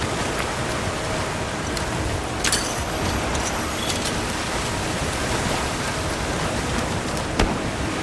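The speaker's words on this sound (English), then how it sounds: "A downpour like this could have an effect on the monsters" Heavy downpour in Monster Hunter Wilds hisses as a dense, steady roar of rain, with a couple of faint, brief knocks breaking through the constant wash.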